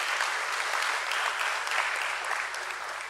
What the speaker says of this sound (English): Let's give a huge round of applause for sir